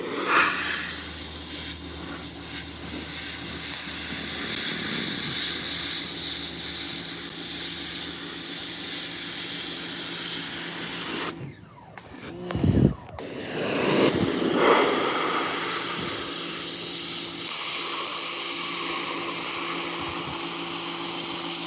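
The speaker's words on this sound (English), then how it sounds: "is when it starts damaging with a high pressure washer" A high pressure washer spraying water on a solo skiff gives a loud, steady hiss, broken by a brief stop and restart partway through.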